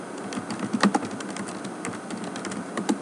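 Keys clatter on a computer keyboard as a comment is typed, a steady run of soft, close clicks with a few sharper taps and no voice.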